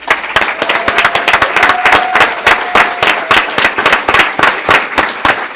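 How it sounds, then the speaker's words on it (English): A crowd at a city council meeting applauds steadily, dense clapping filling the whole stretch at close range, with no talking over it. "Big round of applause, please."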